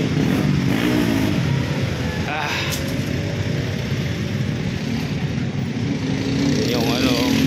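A motorcycle with an idle fault that keeps stalling runs close by in a loud, continuous engine drone with slight rises in pitch, while a voice talks over it.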